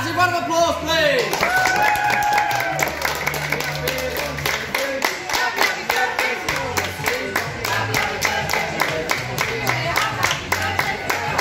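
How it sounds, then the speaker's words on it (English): A small crowd claps for a child's ninth birthday, quick rhythmic clapping running throughout alongside music and lively voices talking over it. "Can I get a massive round of applause, please?"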